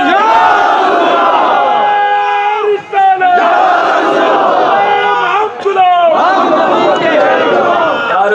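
A large crowd at a religious gathering chants the slogan "Ya Rasool Allah" in loud unison, a sustained roaring call that breaks briefly twice before surging again, dense and close.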